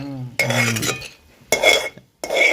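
Peanuts being dry-roasted in a pan, loose scraping and rattling in bursts separated by short pauses, close and fairly loud, with no voices.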